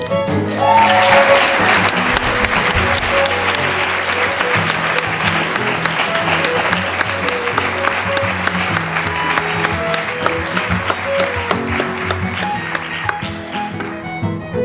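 Loud, sustained clapping from a graduation crowd keeps up at an even level for a long stretch, with no speech over it.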